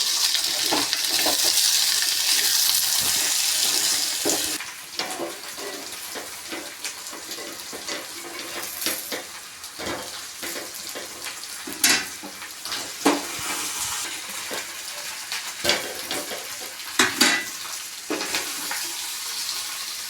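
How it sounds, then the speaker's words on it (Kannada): Onion masala with turmeric being stirred in a hot pan for dosa, a steady frying sizzle at first, then scattered clinks and scraping taps of the spoon against the pan, fairly close. "ಇವಾಗ ಒಂದು ಚುಕ್ಕಿ ಅರಿಶಿನ ಪುಡಿ ಹಾಕೋತಾ ಇದ್ದೀನಿ ಇವಾಗ ಚೆನ್ನಾಗಿ ಮಿಕ್ಸರ್ ಮಾಡ್ಕೊಳ್ಳೋಣ"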